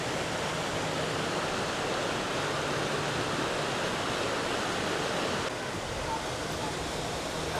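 Water flows steadily near Leukerbad, Switzerland, in a dense, unbroken rushing hiss like a stream or small waterfall, close and constant throughout.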